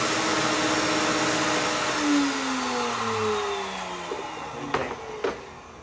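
A wide power router trimming an aerofabb spoiler extension for a MK7 Golf R or GTI: a loud, steady high whine whose pitch drifts as the bit cuts, then a couple of short sharp knocks near the end.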